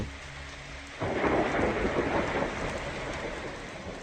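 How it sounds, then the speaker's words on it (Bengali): Steady rain from the Voyager Golden Record's sounds of Earth, starting with a sudden loud rush of downpour mixed with thunder rumble after a quieter second, then holding as a dense, even hiss. "তাছাড়া এতে রয়েছে বৃষ্টির শব্দ,"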